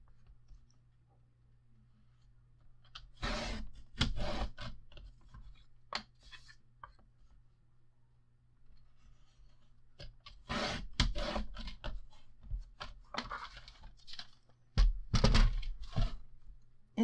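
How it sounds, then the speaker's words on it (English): Scoring tool run back and forth across board at a half-inch mark while making an ink cube storage box: short bursts of scraping rub, a few strokes at a time, separated by near silence, close and fairly quiet. "it does score it when I run it back and forth"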